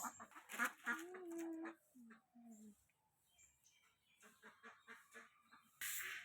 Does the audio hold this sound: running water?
no